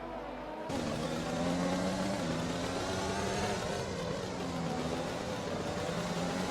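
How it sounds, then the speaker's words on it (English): A racing video game car at Monaco with an engine malfunction, flicking through gears, makes a continuous engine whine with shifting, wavering pitch after a short quiet start, moderately loud and uneven. "It sounds like he's got a major engine malfunction. The car's flicking through gears."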